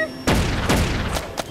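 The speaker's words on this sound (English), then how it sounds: "Tennis ball launcher!" Cartoon tennis ball launcher firing, heard as two loud, booming launch thumps about half a second apart, followed by a couple of lighter pops, all dense and close.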